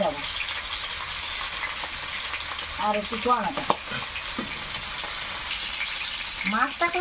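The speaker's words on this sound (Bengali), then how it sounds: "সুন্দর করে লাল লাল ভাজা হয়ে গেছে" Gagra fish fries with potatoes in a hot pan, giving a steady close sizzle with stirring and crackling bursts. Brief voice fragments rise over it midway and again near the end.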